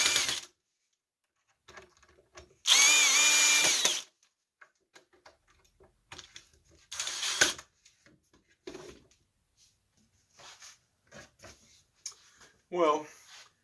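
A power drill drives in back braces on a swivel chair, with one longer whirring burst and a shorter one, separated by quiet clicks and handling noises.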